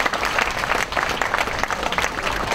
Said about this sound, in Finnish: te saatte vielä hienot aplodit tuolta.